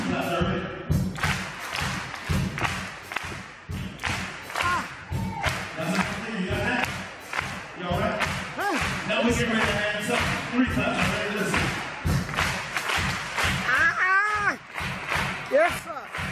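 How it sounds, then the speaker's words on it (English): A crowd doing Charleston claps in pairs over a driving bass drum and hi-hat beat, the claps repeating in a steady rhythm under loud voices and shouts. "Now we're going to go two claps."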